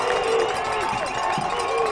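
Large stadium crowd at a College of San Mateo versus Santa Rosa Junior College football game rising in anticipation of a late field goal attempt, a steady broad roar under a commentator's voice.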